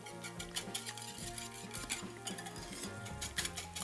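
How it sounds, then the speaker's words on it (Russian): A spoon scrapes and clinks steadily against a bowl while mixing eggs, milk and cinnamon, a continuous rhythmic stirring with small metallic taps, close by and moderately loud. "Перемешиваю."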